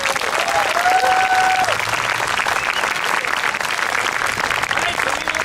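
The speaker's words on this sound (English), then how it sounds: "Let's give them one round of applause." An audience applauds the Dancing Our Prayers group in San Jose, loud sustained crowd clapping with a whistle early on and murmured voices blended underneath.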